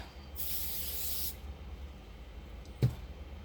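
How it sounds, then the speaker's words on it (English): Spray adhesive hisses in one steady burst of about a second onto a homemade wooden entryway sign painted with chalk paint, then a quiet room with a single sharp knock near the end. "I have already sprayed a little bit of glue on it."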